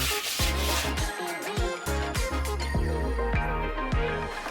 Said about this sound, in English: Go ahead and use your toilet brush.